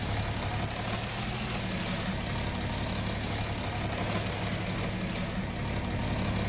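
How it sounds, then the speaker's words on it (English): A farm tractor engine running near a silo during silage work, a loud, steady low diesel rumble and drone that continues evenly throughout, close by, with no speech. "Start this tractor up."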